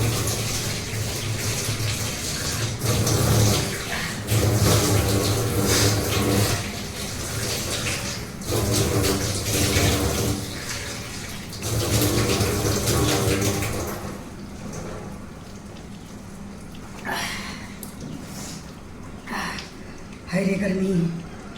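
Green chillies rinsed under a running kitchen tap, water splashing and gushing steadily in bursts up close while someone talks over it.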